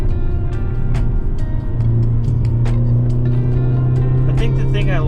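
A 2022 Hyundai Elantra N drives a winding Malibu canyon road. The engine drones steadily from inside the cabin, and its pitch rises as the car gains speed, with voices talking over it.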